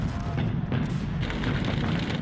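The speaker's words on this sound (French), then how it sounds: "Mais les canons allemands sont là." Distant German artillery guns from the Second World War fire in a continuous, rumbling low-frequency barrage, with heavy booms rolling one into another and no clear pauses.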